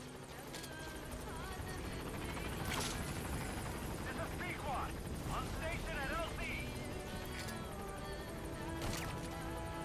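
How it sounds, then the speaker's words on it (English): In Metal Gear Solid V: The Phantom Pain, an arriving extraction helicopter's rotor thrums steadily at a distance amid game background effects, with a few sharp bursts and chirps layered over it. "now we're just waiting at our extraction point for the chopper to take us on home"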